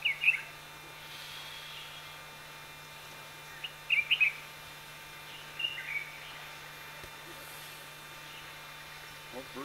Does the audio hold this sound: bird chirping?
yes